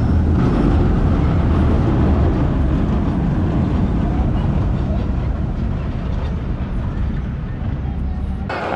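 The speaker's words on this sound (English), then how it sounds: "Here comes the empty train." An empty roller coaster train rolls into the station at a Chessington theme park, a steady loud rumbling roar that holds throughout with little change, nearby, with no voices rising clearly above it.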